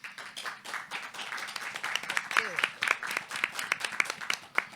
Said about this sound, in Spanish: Le damos una cordial bienvenida y un afectuoso aplauso a nuestros invitados.